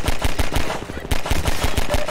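Pistol shots ring out in Half-Life 2 gameplay, a rapid series of sharp, loud cracks in quick irregular bursts with a brief pause in the middle.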